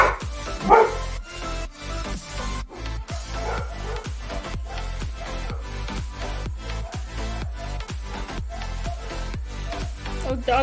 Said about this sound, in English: dogs are having fun barking back there